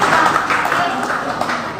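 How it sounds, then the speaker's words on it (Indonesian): An audience at a Pancasila recitation contest applauds a contestant, with brisk crowded clapping at close range, loud and continuous through a short burst. "diberikan lagi tepuk tangan"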